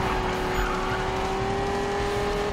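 Race cars in a Need for Speed (2015) circuit race, with a steady engine drone and a high sustained whine running the whole time alongside faint tire noise, loud and continuous with no talk.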